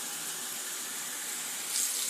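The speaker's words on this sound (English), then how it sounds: "cold water. Let it run a wee second." Cold water runs from a kitchen tap in a steady, even hiss of flowing water close by, continuous and unbroken, with no voices over it.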